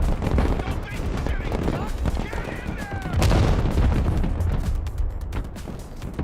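Continuous small arms fire from the military strategy game Broken Arrow crackles in dense overlapping shots, with a louder swell midway and no pause throughout.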